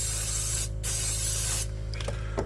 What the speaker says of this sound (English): This is a specific spray can for that from CRC throttle body cleaner